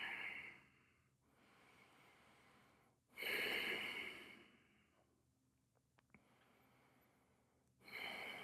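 Deep breathing while holding a yoga bridge pose, with hips lifted: slow, audible inhales and exhales in long swells, one strong breath in the middle, close and alone in a quiet room.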